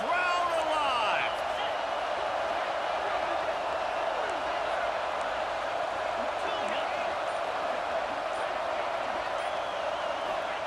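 A stadium crowd roars continuously through a third-down red zone play at an American football game, a loud, dense wall of cheering with a few whistles and shouts and play-by-play commentary over it.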